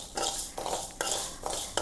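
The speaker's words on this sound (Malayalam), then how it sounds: "ശരിക്കും ഇളക്കി കൊടുക്കണം. നല്ല തിരക്കിൽ ഇളക്കണം" Rice grains being stirred as they roast in a thin pan, close scraping strokes with a rough, gritty rasp, sweeping back and forth in a steady rhythm of about four strokes.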